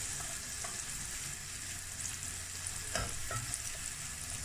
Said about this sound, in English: keep a eye on your vegetables, keep stirring them, don't let them burn